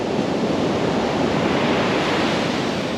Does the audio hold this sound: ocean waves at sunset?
yes